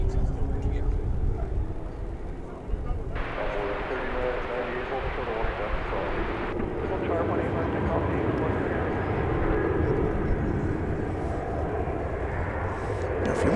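A big jet rolls past at Dallas-Fort Worth Airport, its broad engine roar steady and heavy throughout, with a person talking over it.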